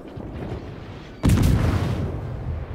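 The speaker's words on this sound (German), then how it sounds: "Und die letzte Salve geht jetzt damit raus" A single heavy artillery salvo from the Soviet destroyer Leningrad in the naval battle game World of Warships bursts out as one loud, sudden boom. It rolls on into a sustained rumbling after a quieter stretch of background battle noise.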